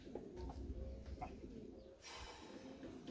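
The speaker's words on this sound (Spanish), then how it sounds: "Otra paloma." A pigeon coos softly at a home loft where birds are awaited, the low murmuring calls faint against steady outdoor background noise, with a brief burst of broadband rustle partway through.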